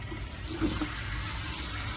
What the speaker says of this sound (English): it pumps a bunch of air into your bucket of water